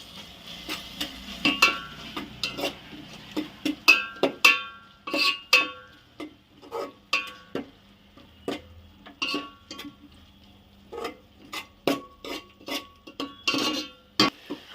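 Ginger garlic paste frying for goat head curry, with repeated metal spoon scrapes and clinks against the pan over a low background sizzle, in irregular bursts throughout.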